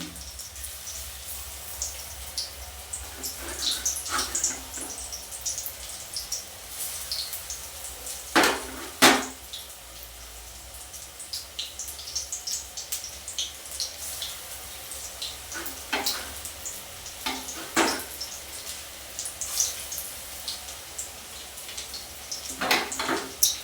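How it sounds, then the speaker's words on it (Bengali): Food goes into hot oil in a home kitchen, giving a low, steady sizzle with a handful of sharp clatters and scrapes of utensils against a pan scattered across the stretch. "তো এবার আমি আবারও দিয়ে দিচ্ছি তেলের ভেতরে, গরম তেলের মধ্যে"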